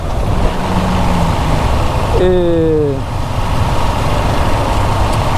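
A KTM 690 SMC R motorcycle's single-cylinder LC4 engine runs smoothly while being ridden. Its steady drone stays loud and close throughout, mixed with rushing wind, and a rider talks over it.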